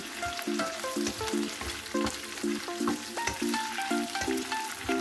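Tofu with onion and garlic sautéing in a pan, a steady close sizzle with repeated stirring clinks and scrapes of a utensil against the pan, no talking.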